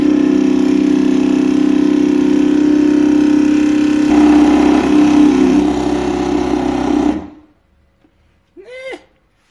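The outboard motor of a Sea-Spi glass bottom boat runs at a steady loud idle with a constant hum, rises a little partway through, then cuts off abruptly, followed by a brief faint sound.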